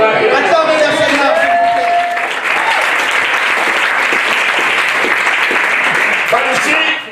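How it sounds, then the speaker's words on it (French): A church congregation applauds and cheers in praise of the Lord, a loud, dense wash of clapping and shouting voices that holds steady for several seconds and then tapers off. "Acclamez le Seigneur."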